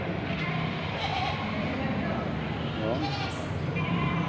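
Goats bleat among a noisy crowd at a goat sale, with several calls rising over constant people's chatter and talk throughout.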